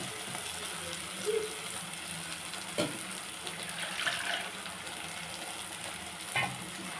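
Rinse water from a mixer jar goes into a simmering Bhavani kendai fish and mango curry with a ground coconut, chili, tomato and onion paste, giving a steady sizzling hiss with a few brief splashes.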